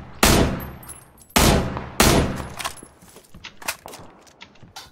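Gunfire in the video game PUBG, three loud sharp shots in close succession followed by fainter scattered distant pops and clicks.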